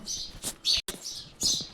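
House sparrows chirp in quick, bright bursts close by, a few sharp tweets separated by brief pauses.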